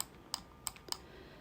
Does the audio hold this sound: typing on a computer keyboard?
yes